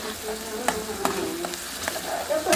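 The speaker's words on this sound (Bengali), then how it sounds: "এখন একটু ঘুরে দেবো, 5 মিনিট একটু ঘুরে দেবো, পেঁয়াজটা মানে কষায় আসবে" Onions fry and sizzle in a pan while being stirred, a continuous close sizzle with scattered light scraping strokes.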